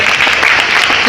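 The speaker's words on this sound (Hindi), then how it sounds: "एक बार ज़बरदस्त ताली उनके लिए हो जाए" Brief burst of dense, loud audience applause at a large business seminar, a continuous close wash of clapping from many hands with no talk.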